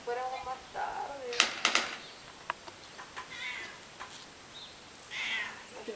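Cat meowing several times in short bursts, moderately near, with people chatting nearby during an airsoft outing.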